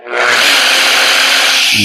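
A 35-pound demolition hammer runs in hammer mode with its motor spinning unloaded, giving a loud, steady buzzing whir that starts abruptly and holds for under two seconds.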